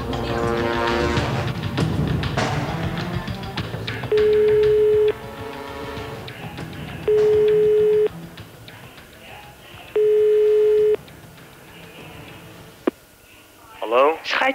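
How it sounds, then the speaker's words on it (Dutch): A telephone tone sounds in three steady one-second bursts a few seconds apart, coming through a busy mix of voices and background sound in a Dutch reality show. "de telefoon"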